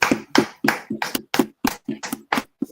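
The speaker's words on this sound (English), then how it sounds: "All right. Clap it up for the class." A class claps in a loud, even rhythm, about ten sharp, close handclaps spaced evenly with no talking over them.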